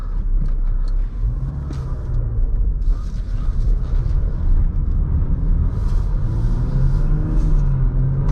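A Jeep Grand Cherokee EcoDiesel High Altitude drives on the street with a steady, loud rumbling engine drone and road noise throughout, holding a low even tone with mild swells and no voices.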